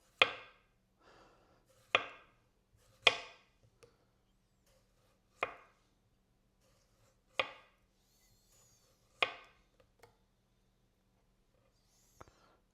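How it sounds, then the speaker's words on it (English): Knife slicing through a tomato, sharpener-made blade: six or seven crisp, clean cuts at irregular intervals, each a short bright slice with quiet gaps between, close and distinct. "And tomato to see if the knife's actually sharp."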